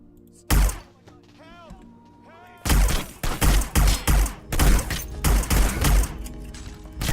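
Gunfire in Hitman: Blood Money, a single loud shot followed after a quieter pause by a steady run of close, heavy rhythmic shots, with a voice and some game sounds in the gap.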